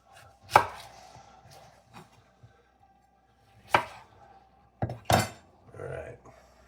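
A knife chops fresh garlic for salsa on a cutting board in a few sharp, separate strikes with quiet pauses between, close and fairly loud.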